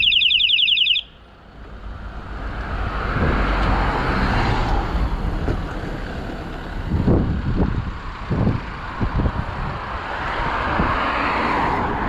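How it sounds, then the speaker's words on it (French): A cyclist's electronic horn sounds close and loud in rapid pulsing bursts for about a second, followed by steady road traffic noise and passing cars. "j'ai dû attirer l'attention du conducteur en klaxonnant 2-3 fois avec mon klaxon"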